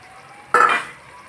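One quick stir scrapes through boiled potatoes in a pan, a short close swish that fades within half a second after quiet.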